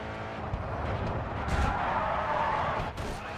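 Race cars in the game GRID 2 roar along in a steady, continuous engine drone with tire hiss and a couple of brief whooshes, a lone car driving with no nearby rivals.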